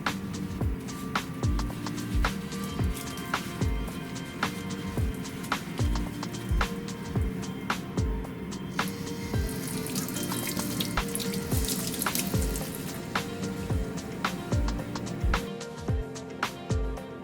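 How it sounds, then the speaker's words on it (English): Miele range burner caps washed under running tap water with a warm dish-soap solution: steady splashing flow from the faucet with regular knocks and clatters of the caps against the sink, no voices. "Let's start by cleaning the burner caps."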